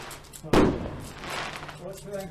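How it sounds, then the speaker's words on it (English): Fireworks burst overhead during a Sharp Practice tabletop wargame session: one sharp loud bang, then a long fading rumble with crackle, over a murmur of background voices. "Fireworks above us."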